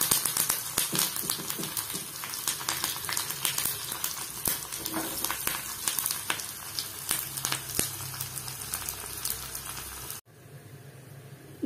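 Fenugreek, onion, dried pepper and curry leaves sizzling in hot oil, a close, dense crackle and spatter that runs steadily for about ten seconds, then drops to a quieter hiss.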